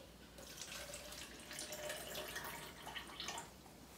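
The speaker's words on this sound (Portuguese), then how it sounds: "vou colocar 100 ml de água fria." Cold water runs steadily into a container in a home kitchen as a liquid is measured for a tapioca-starch recipe, a continuous close splashing rush lasting about four seconds with no talk.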